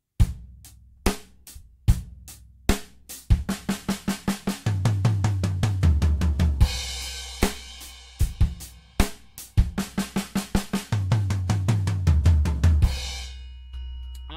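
A live drum kit plays a steady beat with the bass drum dropped in just before the downbeat, crisp close hits and crashing cymbals in repeating phrases, with no talking.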